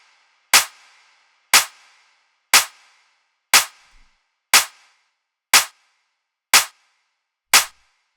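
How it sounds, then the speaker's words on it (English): Clap sample with reverb added in a beat-making session, struck eight times at an even one-per-second pace, each sharp loud crack followed by a short reverberant tail, alone with no talk. "Add in some reverb on that clap."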